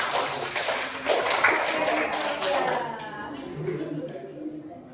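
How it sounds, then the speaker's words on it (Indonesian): A classroom audience applauds their classmates, a dense patter of many hands clapping fairly close, fading out toward the end. "tepuk tangan untuk teman kalian."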